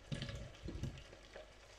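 Chorizo and red pepper frying in a pan for Segovian-style potatoes, a soft steady sizzle with a few stirring scrapes and clanks, fairly quiet and with no talk.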